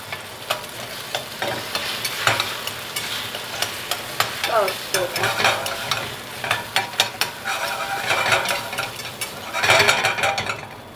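Eggs frying in a carbon steel clad egg pan, a steady close sizzle broken by repeated scraping and tapping as a utensil works the pan, and no talk is heard.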